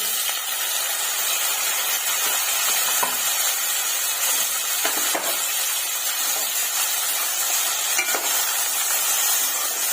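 Onions and tomato frying in oil in a pan, a loud, continuous hissing sizzle with occasional stirring scrapes and pops, unbroken for about ten seconds without talk.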